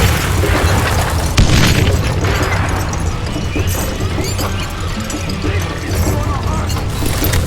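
Dynamite blasts in the Western shooter Call of Juarez Gunslinger make dense, continuous booming and crashing, with a sharp heavy hit near the start, all mixed with game noise and voices.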